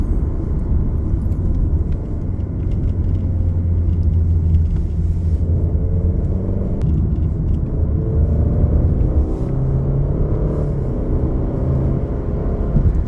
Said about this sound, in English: And listen to the noise. The engine actually has a lot of character too.